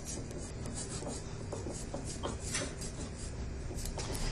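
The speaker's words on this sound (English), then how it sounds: "Then kind of slowly start sawing into that line." A steady, quiet rasping and scraping repeats in short strokes as a knife saws back and forth through a cake.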